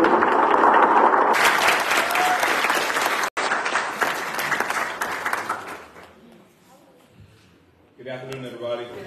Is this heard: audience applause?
yes